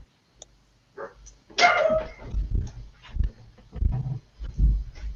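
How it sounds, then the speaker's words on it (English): A dog barks loudly and close, giving a burst of rough, growly barks followed by several more uneven barks, with no talking over it. "Barking dog."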